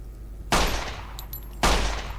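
Two sharp, loud gunshots about a second apart in a video game, each with a short reverberant decay as rounds strike a wall.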